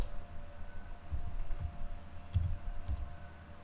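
Fingers tap a computer keyboard in AutoCAD, a few soft, close clicks spaced irregularly over a faint steady hum, with a slightly heavier keypress among them.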